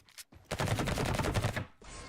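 Rapid automatic fire from a gun in the video game Revulsion: a short click, then a dense burst of shots lasting over a second, loud and continuous, with a brief quieter tail.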